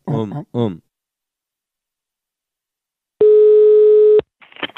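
A steady telephone line tone sounds for about a second while a call is placed, with short bursts of speech before it and faint sounds after.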